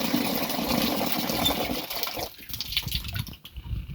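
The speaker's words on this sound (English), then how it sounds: "So we are just filling up the water, the 15 level tank." Water pouring into a 15 liter tank of vermifolia solution on a garlic farm, a rushing gush that turns to splashing and gurgling as the tank fills, close and steady.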